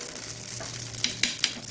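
Ghee sizzles on a jackfruit dosa in a hot pan, a steady close frying hiss broken by a few sharp crackles near the end.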